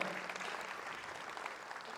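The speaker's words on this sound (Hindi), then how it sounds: "ताली बजाते हैं" Audience at a spiritual discourse by Jain monks breaking into applause, a dense wash of clapping for about two seconds, fairly faint and without speech.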